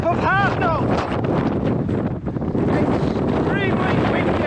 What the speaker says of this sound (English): Extremely windy.